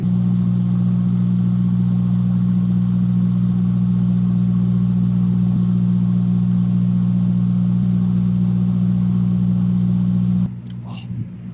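A low, steady food truck engine drone idles continuously for ten seconds, then cuts off abruptly, leaving faint background noise and a couple of small clicks, outdoors near a putting green.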